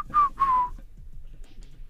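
A person whistles two clear, sustained notes in a short tune phrase, close and fairly loud, followed by quiet low background.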